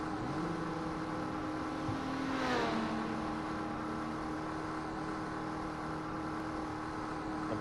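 Race cars in iRacing at Spa hum under a steady engine drone, with one car sweeping past at a higher pitch and fading away around the middle.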